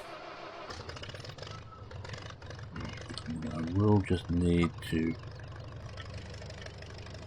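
A tractor engine idles with a steady low mechanical rumble that swells briefly under a man's speech, then settles back to a constant throb.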